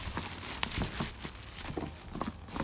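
Plastic shrink wrap crinkles and tears as a Bakemonogatari manga boxset is unwrapped by hand, a close, busy rustling with short crackles and pulls throughout.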